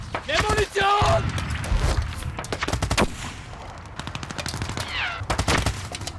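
Rapid bursts of machine gun fire at advancing troops during the Battle of the Somme, loud and close, mixed with shouting voices.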